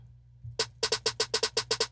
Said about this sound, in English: this snare with a little bit of reverb